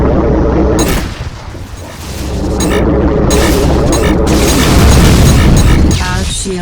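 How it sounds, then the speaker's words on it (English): Missile strikes and explosions in the space combat game Rebel Galaxy Outlaw, loud booming blasts with crackling bursts following one another, a voice briefly heard in the mix. "Missile inbound."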